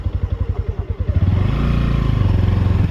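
A two-wheeler motorcycle engine runs up close and loud in first gear on a road ride, starting with a pulsing chug and then building into a steadier, rising rev.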